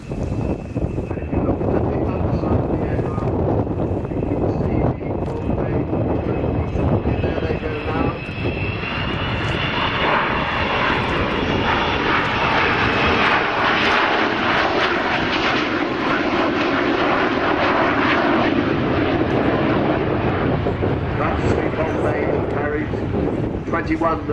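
An Avro Vulcan bomber jet flies a display at RIAT 2013, a loud continuous engine roar that swells and shifts pitch as it passes, with wind buffeting the microphone and a commentator's voice over it.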